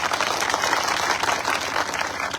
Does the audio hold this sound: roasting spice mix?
no